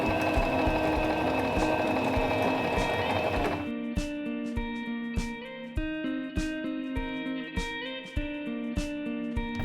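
A SINGER mechanical sewing machine runs a zigzag stitch, first a dense continuous whir, then a series of regular rhythmic clacks as the needle swings, close and clear.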